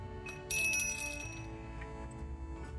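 A small altar bell rings once with a bright, clear metallic ding that shimmers and slowly fades against a quiet indoor background.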